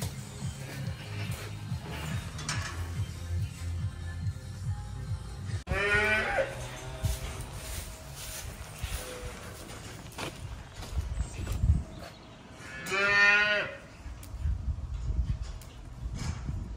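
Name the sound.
calves mooing in a cattle shed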